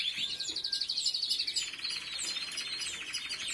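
Small birds chirping steadily while feeding on homemade sponge cake and seeds, a dense stream of high, rapid tweets that keeps going throughout.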